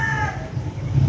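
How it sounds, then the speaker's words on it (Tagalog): Roosters and chickens at a gamecock and bullstag sale, a loud close crow with a falling tone over a busy murmur of clucking fowl. "Grabe, gagaling ng mga manok dito, mga kalaki."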